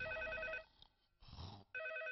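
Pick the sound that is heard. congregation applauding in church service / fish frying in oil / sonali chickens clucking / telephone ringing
telephone ringing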